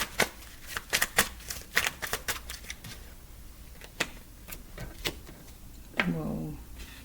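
Tarot cards shuffled by hand in a run of quick, crisp riffling bursts, close and clear, ending in a softer rustle.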